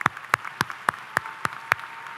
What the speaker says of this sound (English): So how about another applause for our parents,